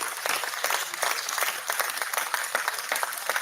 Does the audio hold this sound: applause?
yes